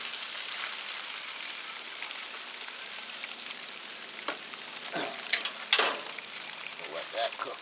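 Potatoes cooked well done alongside ribs sizzle in a steady soft crackle throughout, with a few sharper pops and spatters toward the end; no one talks.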